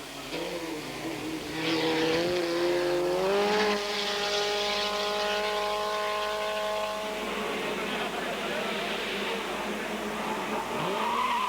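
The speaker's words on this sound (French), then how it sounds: "Claude Morel, sur son Alpine bleue, impose la puissance de son moteur" A blue Alpine racing car's engine revs up at a historic race, its pitch climbing into a steady high whine that holds, then drops away as the car passes, loud and close.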